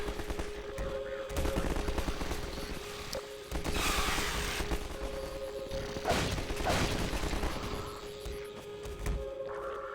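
Rapid rifle gunfire in Half-Life 2 at the Nova Prospekt level, with bursts of shots and mechanical clatter repeating across the span, fairly faint against a steady background hum.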